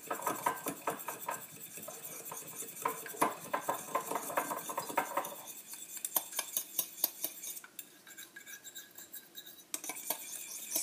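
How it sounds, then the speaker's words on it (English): A spoon stirs a peanut butter mixture in a cup, producing rapid repeated clinks and scrapes against the sides, close and fairly quiet, with no talking. "And then I'm going to stir that up."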